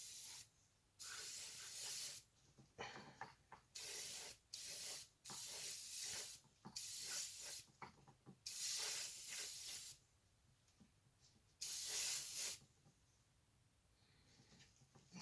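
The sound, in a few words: airbrush spraying paint on a model armoured car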